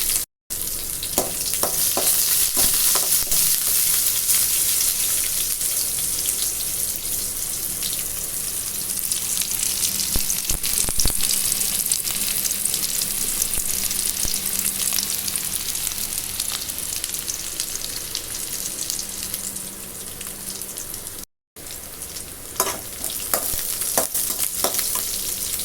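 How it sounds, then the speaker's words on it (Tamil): Thinly sliced onions sizzle and crackle steadily in a hot pan for a Tamil ridge gourd stir-fry, with occasional stirring scrapes and a brief break in the sound, and no talking. "வெங்காயத்தை பொன்னிறம் வர அளவுக்கு வதக்கி எடுத்துக்குவோம்."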